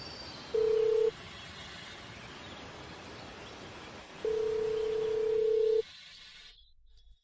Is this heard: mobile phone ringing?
yes